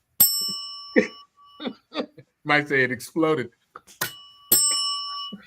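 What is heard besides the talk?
bell being hit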